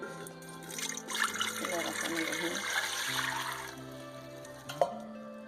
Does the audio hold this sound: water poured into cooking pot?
yes